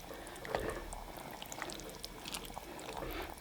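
Chili with beans stirred in a pot, giving a soft, thick wet slosh and gentle scraping in a quiet, faint, continuous texture without talk.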